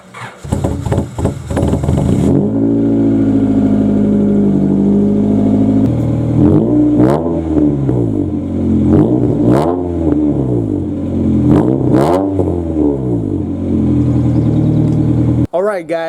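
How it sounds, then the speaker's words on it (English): A car engine revs loud and close, its pitch sweeping up and down through repeated blips and longer pulls, with a steady idle between bursts and a sharp cutoff near the end. "what you guys saw there is my new car"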